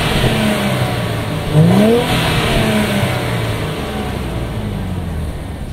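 Engine of a 2022 Nissan Fairlady Z revving, a steady loud drone with one brief rising rev burst early on, then settling back to an even, fairly subdued tone.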